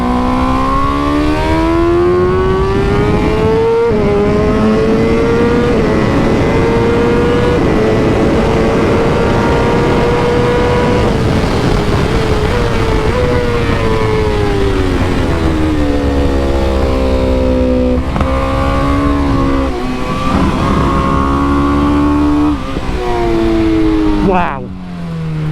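Factory BMW M 1000 RR superbike engine screaming on a race track, revving up and down through gears with rising and falling pitch, close and loud, with an odd part-throttle tone from split throttle bodies.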